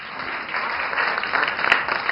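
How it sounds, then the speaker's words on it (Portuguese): A small podcast audience claps on request, a steady light patter of hands that builds slightly, heard close and fairly loud with no talking. "Eu quero aplausos."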